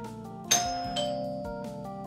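A doorbell chime rings out once with a bright ding-dong, its tones hanging and fading over a soft musical background, close and clear.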